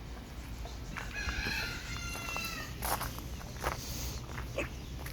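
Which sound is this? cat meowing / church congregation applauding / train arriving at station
cat meowing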